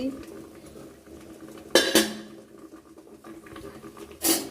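A metal lid is lifted off a pot of steaming egg bati vapa, giving two sharp clanks spaced a couple of seconds apart over faint kitchen rustling, close and bright.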